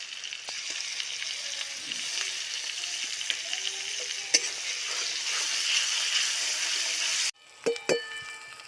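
Whole spices, bay leaf and onion paste frying in hot oil, a steady bright sizzle with occasional pops and stirring clinks, close and continuous before cutting off abruptly near the end.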